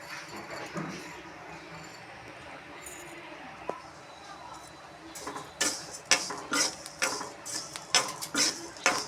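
Rice roasting in an iron pan, stirred with a utensil: quiet sizzling at first, then a run of sharp scraping and clinking strokes that grow louder and more frequent toward the end.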